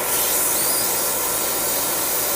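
A steady, loud hiss of an aerosol can spraying primer onto a Gundam plastic model kit, continuous and close, with no pauses.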